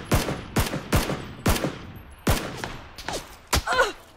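Gunfire in the PlayerUnknown's Battlegrounds video game: about seven sharp, loud shots spaced roughly half a second apart, each with a short echoing tail, and no voices over them.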